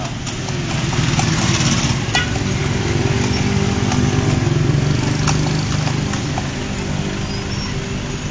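A horse pulling a kalesa carriage around Luneta clip-clops steadily amid loud, constant street traffic and engine rumble, the hoofbeats partly masked by the noisy surroundings.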